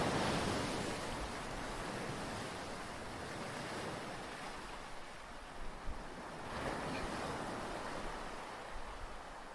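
Rough, agitated sea with waves surging against the shore, heard as a broad continuous roar with wind buffeting the microphone and a slight swell in the middle.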